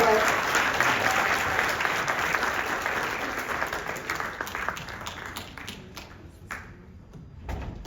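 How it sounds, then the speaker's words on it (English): An audience at a school winter concert breaks into dense, loud applause that gradually thins and fades over several seconds, with scattered claps near the end and faint voices underneath. "Can we give them another round of applause?"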